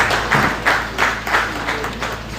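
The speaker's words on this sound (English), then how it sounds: "So I'd like us to give a round of applause for our panelists this morning." Audience applause for the morning panelists at an alumni association graduation ceremony, a steady crowd patter with recurring swells, fairly close and filling the whole moment without talk.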